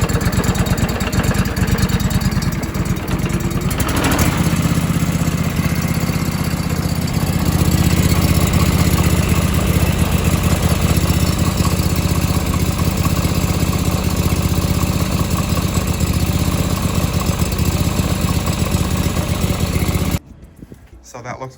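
A John Deere 445 lawn tractor engine runs steadily at a loud, close idle for about twenty seconds after starting, then cuts off near the end.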